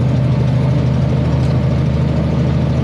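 A drilling rig engine idles steadily with a deep, rumbling drone and a leaking exhaust, its loud, constant throb continuing without a break.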